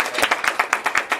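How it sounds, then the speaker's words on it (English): Brief burst of audience applause from a workshop crowd at a practitioner talk, with fairly few hands giving distinct, rhythmic claps close by. "Fiona Clift, a big round of applause."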